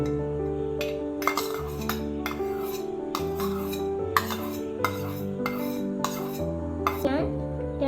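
A spoon adding sugar into a mixer jar, a series of light clinks and taps of metal on the container over a steady background hum.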